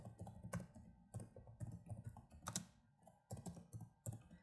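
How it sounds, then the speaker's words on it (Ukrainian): Keys clack on a computer keyboard as a chart title is typed into an Excel spreadsheet, a close run of quick uneven taps in short bursts with brief pauses between. "і пишу назву діаграму похід по Черногірському хребту"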